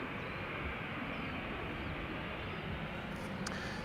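A Norwegian airliner in special livery rolls at Schiphol Airport under a low cloud ceiling, a steady, broad jet roar heard from a distance without pause and with no voices.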